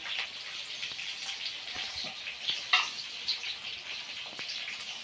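Onion hitting hot oil in a pan gives a steady, fairly faint sizzle with soft crackles and a few brief pops throughout, with no talk.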